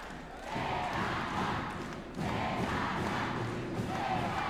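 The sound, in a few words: crowd cheering for player Adrian Celada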